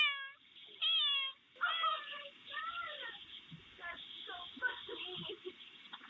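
A returning house cat meows at a front door, picked up by a Ring doorbell camera with a thin, band-limited tone: a few clear, close meows at the start, then voices talking over faint further mewing.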